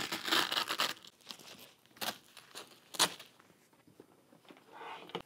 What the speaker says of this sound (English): if for whatever reason you wanted to remove the dust skirt, that is done very easily. It is a Velcro and snap type setup.